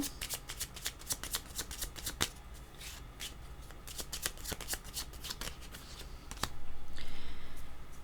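Oracle cards handled and shuffled, with a rapid run of crisp riffling clicks and flutters, fairly close and fairly quiet, followed by a softer rustling swell near the end.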